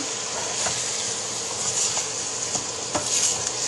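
Ground meat for egg roll filling frying in a pan over a turned-up flame, a constant bright sizzle broken by irregular scraping and clinking as it is stirred around.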